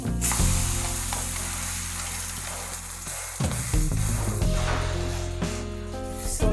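Oats omelette cooking on a hot dosa griddle, a dense close sizzle with a brief scrape and shuffle midway as it is handled, loud and continuous with no talk.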